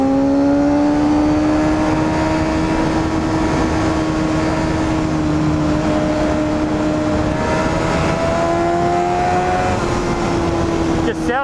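A Honda CBR250RR's small high-revving engine screams at a steady high pitch during a ride, its whine holding level and shifting slightly, loud and close under rushing wind noise, with a sharp clatter at the very end.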